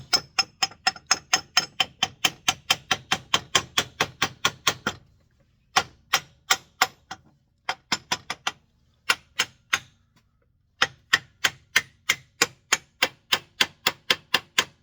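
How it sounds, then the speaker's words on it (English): A wooden hammer taps the arbor into a 1962 Sprunger Brothers wood lathe in a long series of sharp, evenly spaced knocks, close and clear. There are short pauses between bursts and no voices. "Wooden hammer. Just slowly just start tapping this in."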